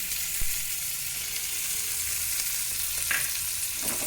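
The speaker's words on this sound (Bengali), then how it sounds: "এবারে দিচ্ছি আদা রসুন আর লঙ্কা কুচি।" Ginger, garlic and chopped chilli sizzle steadily in hot oil with onion and capsicum for chilli chicken, a continuous close frying hiss broken by a couple of brief stirring knocks, with no talk.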